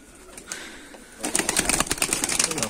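Pigeons in a snowbound loft after days of cold: a quiet stretch with faint cooing, then from midway a burst of close, busy wing flapping and rustling with soft coos mixed in.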